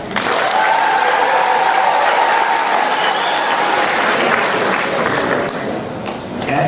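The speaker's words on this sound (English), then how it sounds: "One last ovation for our incoming class." An audience gives a welcoming ovation to an incoming freshman class, with loud, dense, sustained clapping from a large crowd that begins to fade near the end.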